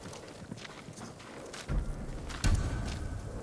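Horse hooves in Ghost of Tsushima thud on the ground at a slow walk, with a couple of heavier, closer impacts standing out over a soft ambient bed. No one speaks.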